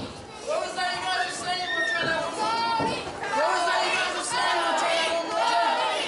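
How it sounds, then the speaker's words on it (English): Wrestling fans at a PowerSlam (PPW) show cheer for Cody Blayde, a steady crowd roar of chatter and shouts with rising and falling voices, while an announcer talks over it throughout. "These fans already cheering Cody Blayde."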